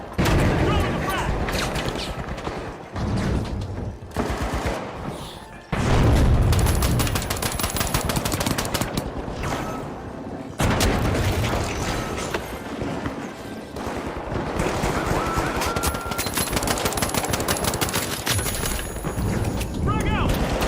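A frag grenade explodes in a shooter game amid continuous heavy gunfire and machine-gun bursts, with a couple of sharp booming drops in the dense, loud combat noise.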